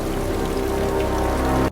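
A steady, dense hiss of rain falls at a pool, loud and unbroken, with no voices over it.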